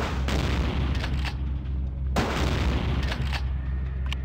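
Shotgun blasts in Vampire: The Masquerade - Bloodlines boom heavily and close: one at the start and another about two seconds later, each followed by rumbling tails and smaller pops.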